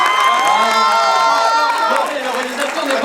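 Film premiere audience at an avant-première cheering and whooping together, a dense, loud crowd roar with high-pitched shouts and some clapping, sustained throughout before easing slightly near the end.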